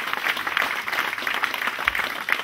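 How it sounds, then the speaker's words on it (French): An audience at a Swiss creole jazz band concert claps steadily for a guest, a full even patter of many hands filling the space throughout without talk. "je crois qu'on peut l'applaudir"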